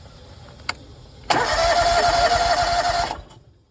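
A small petrol engine on a brick-cleaning pressure washer is started with the choke pulled out. A click comes first, then the engine catches and runs with a loud, steady buzz for about two seconds before cutting off.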